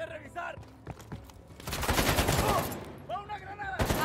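Bursts of rapid gunfire in Call of Duty: Black Ops Cold War, with an AK among the weapons, erupt into a loud, dense volley midway, with shouting voices before and after.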